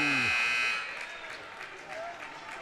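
A basketball buzzer at a varsity girls' high school game sounds loudly at the start and cuts off within a second, followed by crowd noise and commentary in a gym.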